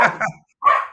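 A pet dog named Bear lets out two short, sharp barks separated by a brief pause, close and fairly loud.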